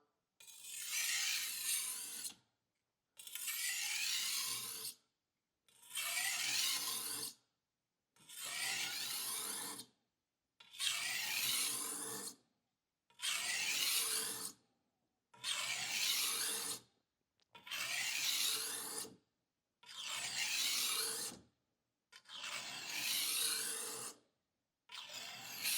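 A kitchen knife scraped on a whetstone in ten even, rasping strokes, each about two seconds long with short quiet gaps between, close by and fairly soft with no talk.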